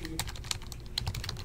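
Rapid, irregular keystrokes on a computer keyboard, fairly faint and close, typing continuously without speech.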